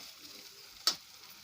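Vegetables stirred and fried in oil with spices, a soft sizzle throughout punctuated by one sharp clink of a spoon against the pan.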